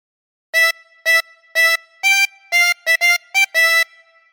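Ten Green Bottles played on a harmonica, nine clean single blown and drawn notes in a steady rhythm, close and clear with no voice.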